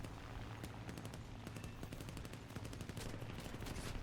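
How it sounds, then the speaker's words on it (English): Sustained machine gun fire from a P-51H fighter plane in an aerial combat video game, a dense continuous rattle of rapid shots over engine drone, steady and fairly loud with no speech. "I decide to dump all my ammo into him"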